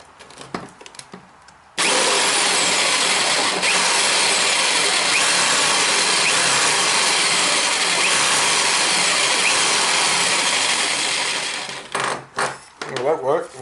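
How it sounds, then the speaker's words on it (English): A jigsaw cuts a hole through a kayak hull, starting abruptly and buzzing loud and steady for about ten seconds before stuttering to a stop, with some handling noise and a voice briefly at either end. "I just drill a hole for the drill and I'll see if I can cut it out with the jigsaw."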